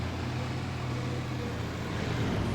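A Fiat Agri tractor engine in Farming Simulator 25 drones at a steady idle-like hum, a constant low mechanical tone with a rough, noisy edge that holds unchanged and alone the whole time.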